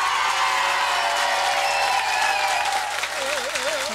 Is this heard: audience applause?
yes